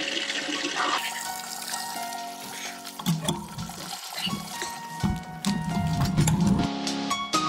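Roadside running water splashing and gurgling nearby, a continuous churning flow with intermittent clunks and knocks.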